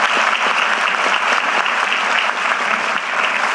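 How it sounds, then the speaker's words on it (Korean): A large outdoor political rally crowd applauds, with dense, loud clapping that holds steady throughout and fills the whole stretch without a break. "박수 한번 주세요."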